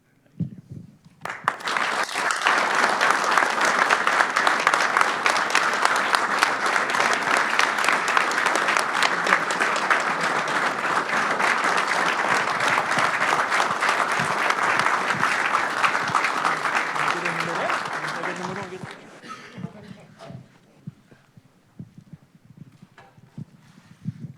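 Sustained loud applause from a board of commissioners meeting audience honoring officers, a dense wash of clapping lasting nearly twenty seconds before tapering off into scattered claps and quiet room noise.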